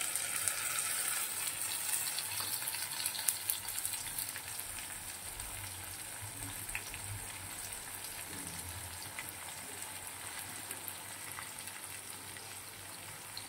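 Ginger garlic paste sizzles in a frying pan, giving a steady, dense hiss of frying that stays fairly even and close throughout, with no voices.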